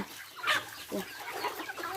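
Farmyard chickens cluck in short, bright bursts nearby, a few soft calls spread across a quiet moment.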